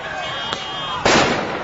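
Flashbang grenades going off at a police protest in Oakland: a faint pop followed by a louder, broad blast under a steady noisy crowd background with voices.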